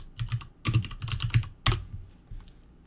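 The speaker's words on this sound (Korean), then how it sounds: "여기에서 VENV 가상 환경 생성 명령어를 입력해 줍니다." Fingers typing a virtual-environment creation command into a terminal on a computer keyboard: a close burst of crisp key clicks in uneven rhythm, a louder keystroke like a final enter, then quiet.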